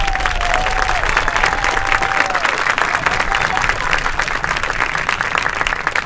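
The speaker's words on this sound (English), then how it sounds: "Let's give them a round of applause." An audience applauds a high school marching band at an end-of-season event, loud sustained clapping from a crowd filling the space, with a few voices and a brief whistle-like tone early on.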